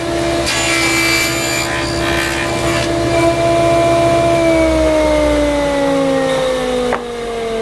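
A power saw cuts a dado in wood guided by an Incra jig, a loud steady whine with tonal harmonics that holds, drops slightly in pitch as the blade works through, then eases off near the end with no talk.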